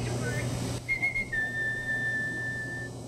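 A pet talking bird whistles a clear, sustained pitched note, starting with a brief short whistle and then holding a long steady tone for nearly two seconds, close and loud over faint room noise, with no talking.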